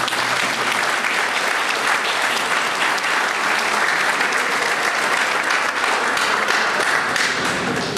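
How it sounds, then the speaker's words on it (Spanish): Audience at a lecture on crimes against public administration gives the speaker sustained, loud applause, a dense, even wash of many hands clapping for the full eight seconds. "expresamos un reiterado aplauso al doctor Fidel"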